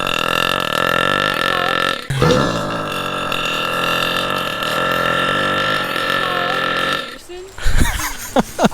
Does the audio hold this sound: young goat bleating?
no